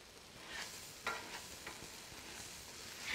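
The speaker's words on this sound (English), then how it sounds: "I'm just going to take my refries and drop them right onto the griddle" Refried beans sizzling in leftover meat oil on a Blackstone griddle, a quiet, steady hiss broken by a few sharp scraping strokes of a spatula, ending with a louder scrape.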